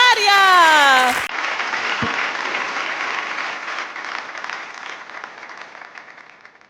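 Applause for a singer from the province of Palermo breaks out right after a sung note ends, a dense crowd clapping that then slowly fades.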